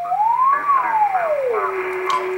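Single sideband radio receiver tuned slightly off a station, giving a clear whistling tone that slides up, bends back down and then holds steady over a faint hiss.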